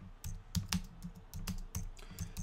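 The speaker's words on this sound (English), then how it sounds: "you can type in your keyword" Someone types on a computer keyboard, a quick, irregular run of soft key clicks heard up close in a quiet room.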